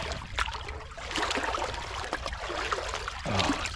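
Water splashing and trickling around a wading person's boot, with sloshing and dribbling close by, steady and fairly loud, swelling near the end as water gets into the boot.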